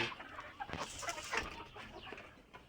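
A rooster in a backyard flock gives a few quiet, irregular clucks and squawks, moderately distant, fading slightly toward the end.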